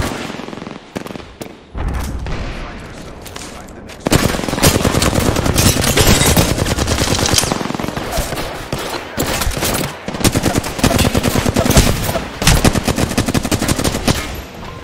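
Heavy sustained gunfire in the shooter game Apex Legends: long dense bursts of rapid automatic shots with brief gaps, loud and close, layered with explosive cracks.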